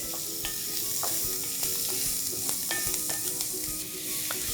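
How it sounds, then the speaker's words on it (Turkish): Diced onions and carrots sizzle steadily in a pan for chicken with roasted peppers, with close spoon scrapes and stirring clicks breaking through the continuous frying hiss. "Ve bir güzel karıştırıyorum böyle."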